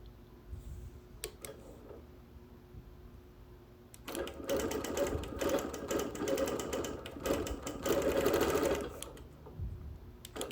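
A sewing machine quilting on wool, a few isolated ticks first, then a rapid steady stitching rattle running for several seconds, close and moderately loud.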